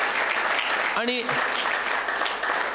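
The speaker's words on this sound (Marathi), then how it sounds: "तीनही कलाकारांना मोठ्या टाळ्या वाजून, जोरदार टाळ्या वाजून त्यांचं आपण अभिवादन करूया" An audience at a classical vocal concert gives sustained applause for three performing artists, an even clapping texture running throughout, briefly overlapped by someone speaking a single word near the middle.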